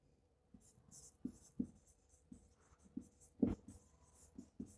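Writing on a board during a maths lesson on trigonometric functions produces quiet, irregular scratchy strokes and taps in short bursts, with pauses between them.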